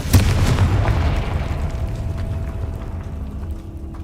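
A Confringo fire spell explodes in a video game, a loud booming blast at the start that rumbles and slowly fades over several seconds.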